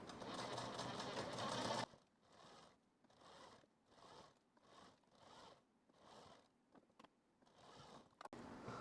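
Sewing machine stitching a blouse seam, a loud continuous whir at first, then a steady series of short, even bursts as the machine runs in quick rhythmic spurts, close and with no voices.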